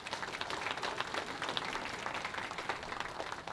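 Delegates at an Ontario chiefs' education symposium applaud their co-chairs with a soft, steady wash of many hands clapping from across a large room, sustained and even throughout.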